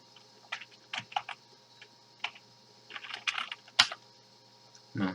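Typing on a computer keyboard at a command prompt, scattered bursts of close, crisp key clicks with pauses between, ending in a heavier thump.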